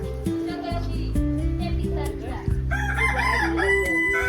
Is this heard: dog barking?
no